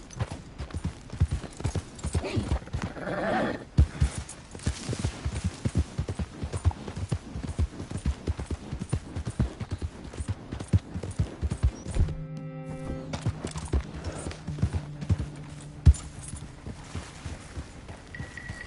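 Horse galloping in Red Dead Redemption 2, rapid rhythmic hoofbeats pounding close and loud throughout, briefly broken by a whinny, with faint talk.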